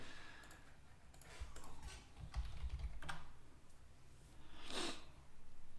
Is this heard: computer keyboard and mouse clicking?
yes